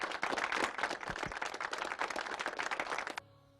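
A group claps steadily in a rapid, dense patter for about three seconds before the clapping stops abruptly, leaving quiet room tone.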